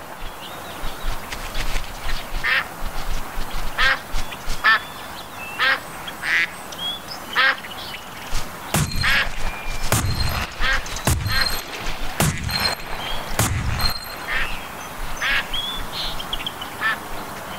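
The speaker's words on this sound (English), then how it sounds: "Hey, there's some ducks coming in." Ducks quack repeatedly as they fly in during a duck-hunting scene in the Duck Dynasty video game. The calls come in short bursts at a fairly close, loud level, and several sharp shotgun blasts break in midway.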